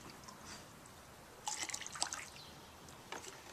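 Soda ash solution for Procion MX dyeing is poured into dye solution. Brief splashing and dribbling bursts come through a quiet background, one around the middle and a shorter one near the end.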